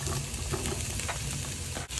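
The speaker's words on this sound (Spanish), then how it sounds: "Y de este lado igual voy a freír salchichas." Sausages frying in a pan alongside garlic and onion, a loud, close, continuous sizzle and crackle of hot oil with faint stirring.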